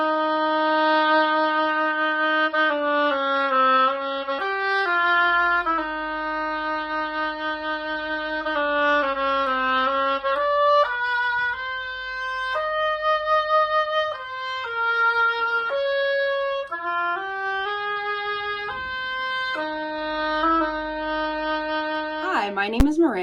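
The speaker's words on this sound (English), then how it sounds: "You'll notice that the oboe sounds quite a bit like a duck." A solo oboe plays a bright, reedy melody with short detached notes and longer held tones, clear and close, no voices.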